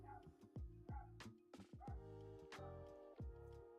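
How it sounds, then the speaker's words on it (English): A dog outside gives a run of several sharp yips and barks with whimpers in between, fairly close and alone. "There's a dog outside."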